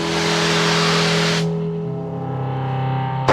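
Engine of a Kitfox experimental light airplane revving steadily as the throttle is raised, loud and close, its tone dropping and settling into a sustained drone before a sudden cut.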